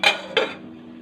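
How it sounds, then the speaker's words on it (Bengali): A metal kadai set down on a stove, giving two quick, close metallic clanks with a short ringing tail, alone with no talking. "এবার আমি কড়াই বসিয়ে দিয়েছি।"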